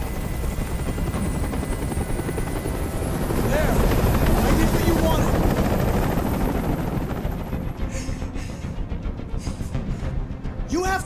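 Helicopter rotor chopping steadily overhead during a tense hostage standoff scene in the video game Detroit: Become Human, a loud continuous drone that swells midway, with voices speaking over it.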